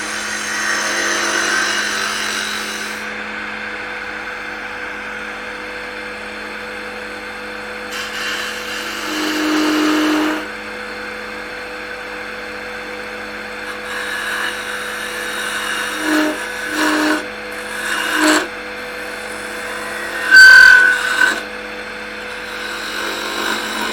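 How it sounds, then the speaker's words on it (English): Wood lathe turning a holiday ornament with a 1/2 inch bowl gouge, a steady motor hum broken by several short, louder bursts of cutting over the second half, with no talking. "We're going to go back to the 1/2 inch bowl gouge."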